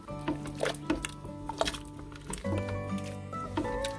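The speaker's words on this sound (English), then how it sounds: "Give this all a quick stir" A spoon stirs chickpeas for Punjabi chole in an Instant Pot, making soft wet squishes and light clinks against the pot in a slow, uneven rhythm, close by over a faint background hum.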